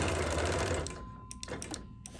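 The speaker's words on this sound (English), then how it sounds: "I am going to over sew just a little bit as I go around" A sewing machine quilting a cup-themed quilt runs steadily at first, then slows into separate short stitching bursts with small pauses, heard close and at moderate level with no talk.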